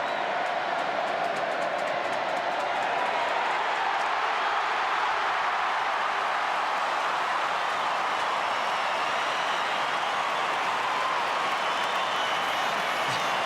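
A packed Australian rules football crowd at St Kilda versus Brisbane, cheering and applauding in a sustained, even roar for Stephen Milne's tenth straight goal, with no break across the whole stretch.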